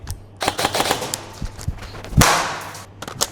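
An Amarok airsoft AEG fires BBs after a magazine drop test, making a quick cluster of sharp clicking shots followed by a few scattered single snaps and thuds, close and moderately loud.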